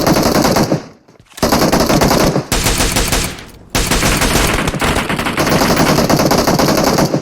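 Sustained machine gun fire from PUBG Mobile, loud and close, long continuous bursts broken by two short pauses, with no talking.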